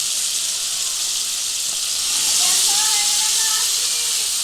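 Pointed gourd, potato and fried prawns go into a pan with softened onion, producing a broad, steady hiss of sizzling that swells slightly midway, heard close and alone.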